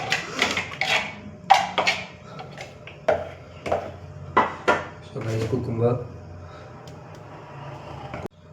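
A knife slices a cucumber into rounds on a cutting board, giving a string of crisp, irregular chops and taps against the board, with a few dish-like clatters and a quiet pause near the end.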